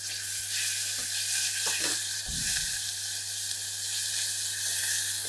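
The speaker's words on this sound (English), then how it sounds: "We're just going to saute that off." A blended paste of chili, ginger, garlic, lemongrass and honey sautés in a pan with a bright, continuous hissing sizzle, steady and close, with a low hum and one brief thud; no talking.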